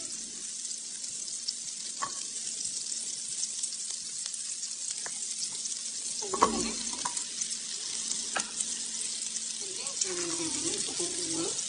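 Garlic fries in a pan for ginataang hipon, a steady bright sizzle with occasional clinks and stirring scrapes throughout.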